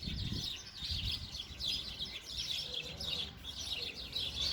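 Birds chirping in a tree holding nests with baby birds, a steady chorus of high, overlapping tweets heard at a moderate distance over continuous outdoor background noise.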